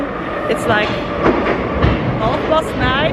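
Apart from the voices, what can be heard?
Paris metro train riding on the rails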